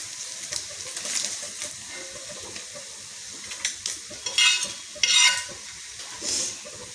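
Paneer frying in a pan while a spoon stirs it, a soft steady sizzle broken by a few sharper scrapes and clinks of metal against the pan, with no voices.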